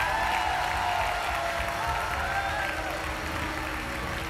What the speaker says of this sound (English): Now clap your hands and celebrate your victory.